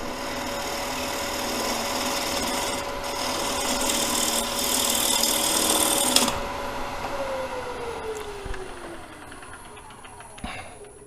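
A wooden bowl spins on a lathe at 1,000 RPM while a tool cuts it, giving a steady, loud rasping hiss with a tonal hum. The cut ends around the six-second mark and leaves the motor tone falling away.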